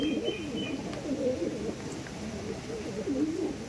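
Pigeons of an old generation, males and females kept for sale, cooing softly in a low, warbling murmur that repeats without a break, faint and close by.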